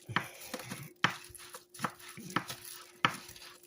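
A knife chops spring onions on a board in sharp, close strikes, five or six irregular taps spaced about half a second to a second apart, with light board and utensil clatter between them.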